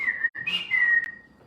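A person whistles a short tune, a few clear sliding notes with a brief gap and a final upward flick, close and distinct without talk.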